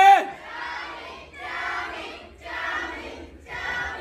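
A fan crowd at a Taichung meet-and-greet in a venue called Tiger City chants a name in unison, three loud rhythmic shouts in a row, each rising and then dropping off.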